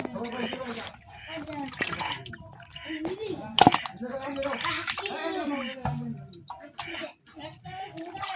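Palm fruit seeds being rinsed clean in water for a palm cake in a village kitchen, with sloshing, trickling and dripping water throughout, a sharp splash in the middle, and a voice talking over the washing.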